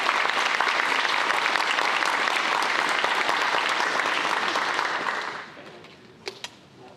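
A crowd at a high school spring signing day claps loudly and steadily for several seconds before the applause tapers off, followed by a couple of isolated sharp claps in the quieter room.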